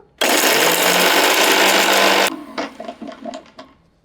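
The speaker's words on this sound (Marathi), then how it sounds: "हे आधी मिक्सरला फिरवून घेऊया हे बारीक करायचं आपल्याला" A kitchen mixer grinder whirs loudly and steadily for about two seconds, grinding roasted dry coconut with garlic and ginger, then stops abruptly, followed by a few sharp knocks and rattles of the jar.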